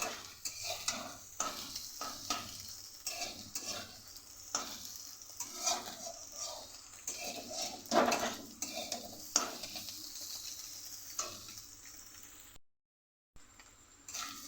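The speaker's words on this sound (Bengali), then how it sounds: "ডিমের মধ্যে দেব অল্প একটু নুন, আর তারপর একসাথে নেড়ে এটাকে প্রায় ভুজিয়ার মতো করে নেব। ডিমটাও একসাথে ভেজে নেব।" Beaten, salted egg stirred and fried in a pan into a scramble for fried rice: a spatula scrapes and clinks against the pan over a soft, steady sizzle, with a brief silent gap near the end.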